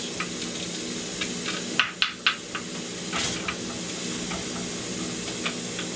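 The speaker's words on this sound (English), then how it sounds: "when you release that lid, that steam is going to come back on you" Steady hiss from a pressure canner of hamburger as the lid is released, with a few sharp metallic clicks partway through and a brief surge of venting.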